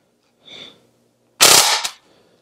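Umarex Steel Force BB gun fired on its six-shot burst setting, a sharp loud rapid crackle of shots after a faint earlier noise, then quiet.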